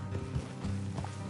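Horse hooves clip-clop in a short, steady, fairly loud rhythm in the Red Dead Redemption 2 western video game, heard alone.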